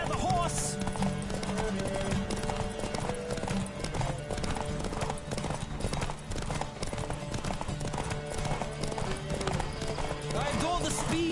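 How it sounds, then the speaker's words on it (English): Horse hooves gallop in a fast, driving rhythm during a horse race in The Witcher 3 video game, loud and close under game music, with voices talking over them and a brief whinny. "Don't spare the horse!"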